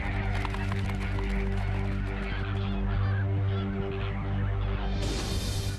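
A panicking flamingo flock calls in a dense, continuous honking clamor over a low steady hum, loud and unbroken throughout.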